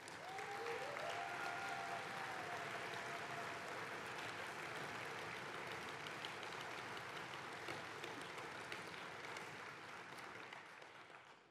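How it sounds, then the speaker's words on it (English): Applause from the audience at a sports and media awards ceremony, a long, even roar of many people clapping together that stays full and steady throughout, with a faint tonal whistle early on, fading only slightly at the close. "I think they deserve another round of applause"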